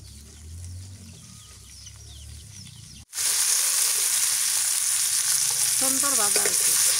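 Pieces of a large glass carp fish frying in oil. The first three seconds are quiet, then a sudden loud, dense sizzle takes over and continues, with a few faint bird chirps in the background.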